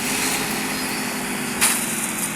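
A motorbike engine drones in a battle royale video game, a steady buzzing hum held at even loudness through the short moment with no voices.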